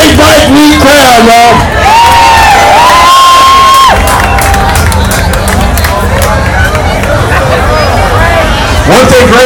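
A bike week crowd at an outdoor band show cheers and shouts loudly and steadily, with whoops, voices and busy babble blending into a dense roar.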